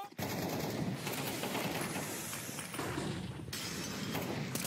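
Rapid gunfire in the Counter-Strike 2 video game during a professional match, bursts of shots with sharp breaking-glass-like cracks over a constant noisy bed, fairly faint.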